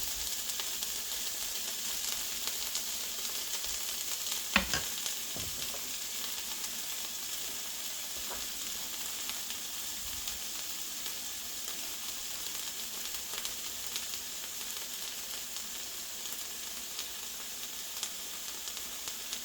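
Meat and vegetables frying in a pan for an egg scramble, a continuous bright sizzle with occasional soft stirring scrapes and clicks, steady and close, no voices.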